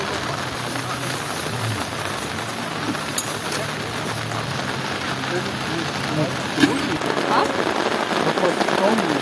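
Steady rain patters down at a lake shore in Kyrgyzstan, a dense, even hiss with a few sharper drops, close and continuous throughout.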